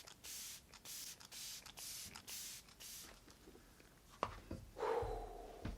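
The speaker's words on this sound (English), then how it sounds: "This is the Jen Atkin e.l.f. spray. The mist on it is divine." An e.l.f. Jen Atkin makeup setting spray pumps out a rapid series of short, close hissing mist bursts in an even rhythm, followed by quieter handling sounds.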